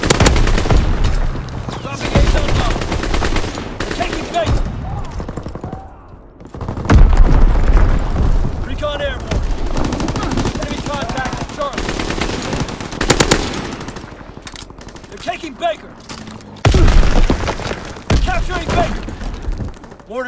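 An aircraft strafing run in Call of Duty: WWII, with loud rattling bursts of machine gun fire, heavy booms and thuds over several seconds, and game radio voices in between.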